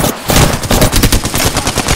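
Loud, close automatic gunfire from a video game rattles in rapid bursts, with short pauses between them.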